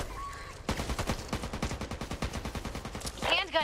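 Rapid minigun fire in the zombie shooter Back 4 Blood, a dense stream of sharp shots starting after a brief lull and hammering on steadily to the end, close and loud.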